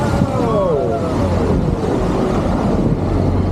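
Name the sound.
amphibious duck boat entering the Charles River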